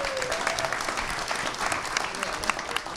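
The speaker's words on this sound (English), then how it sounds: "one more big round of applause" A live audience at a Los Angeles comedy show claps steadily, dense applause filling the room for a few seconds, with faint voices mixed in.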